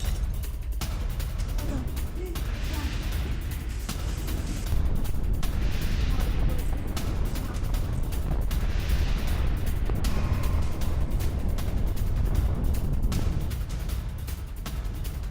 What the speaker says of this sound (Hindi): ईरान के फोर्डो प्लांट पर भीषण बमबारी।